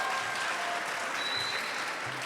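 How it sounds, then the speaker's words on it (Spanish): Audience applause for a school delegation at a Chilean school gathering, a steady wash of many hands clapping throughout, loud and continuous with no speech over it. "un aplauso para ellos, por favor"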